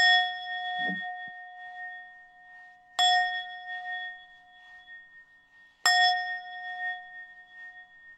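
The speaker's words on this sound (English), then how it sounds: "I'm gonna just do the bowl and clear the energy" A singing bowl is struck three times at steady intervals, each strike a bright metallic ding that blooms into a long, clear, shimmering ring that fades before the next hit, close and alone.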